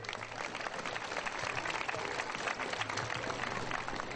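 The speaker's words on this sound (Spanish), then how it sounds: "pedimos un fuerte y caluroso aplauso" Warm applause from an audience at a ceremony welcoming a professor during a band reception in Villa Alta, a steady dense clapping sustained for several seconds with faint voices mixed in.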